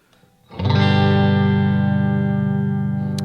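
A sustained electric guitar chord rings out through a 1976 Fender Princeton Reverb amp set to moderate volume with low treble, low bass and some reverb. It is struck once after a brief quiet moment, stays loud and rich, then slowly fades.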